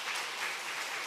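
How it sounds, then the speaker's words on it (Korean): A short burst of applause from a church congregation during a Sunday service, steady clapping throughout. "축복의 박수 해주시기 바랍니다"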